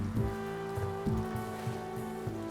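Rain in the RimWorld video game, a soft steady patter over a low droning tone, with faint rhythmic thuds recurring beneath it.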